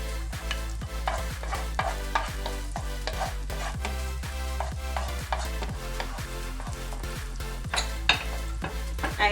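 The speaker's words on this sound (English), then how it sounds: "Adding some oil, just a little bit to saute my vegetables. And to this I'm going to go in with my garlic." Vegetables and garlic sauté in a little oil, giving a steady close sizzle broken by regular scraping strokes of a spoon or spatula against the pan, with no voices.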